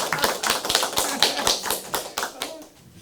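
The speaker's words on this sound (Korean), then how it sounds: "자랑 좀 박수 한번 주시고요" An indoor audience at a library philosophy club meeting breaks into applause, a quick burst of claps that thins out over about three seconds.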